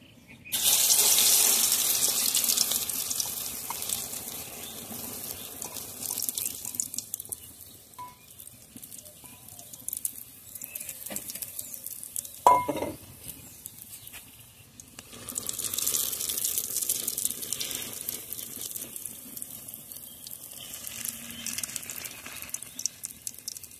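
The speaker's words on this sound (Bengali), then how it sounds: "তেল গরম হয়ে গেছে। এখন মসুর ডালের মিশ্রণটি ঢেলে দেব।" Red lentil batter goes into hot mustard oil in a wok, with hissing, spattering frying in loud bursts around quieter stretches and a sharp clatter midway, and no talking.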